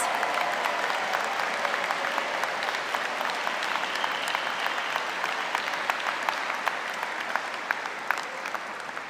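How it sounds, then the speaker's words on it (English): Sustained applause from a large audience at a law school commencement ceremony, a dense, even roar of many hands clapping for the full stretch, steady in loudness with no voices on top. "give them a round of applause"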